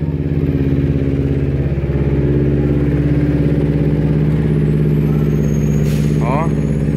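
A Kawasaki Ninja 250R motorcycle engine runs with a loud, steady throbbing idle close by, its rumble holding even throughout, with a brief faint higher chirp near the end.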